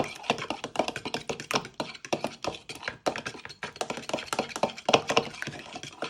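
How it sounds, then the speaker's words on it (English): A whisk beats cracked eggs in a bowl for a carrot cake batter, a fast run of close, crisp tapping and clicking strokes against the bowl, steady and uneven in rhythm, with no one talking. "You just want to give your eggs a little whisk"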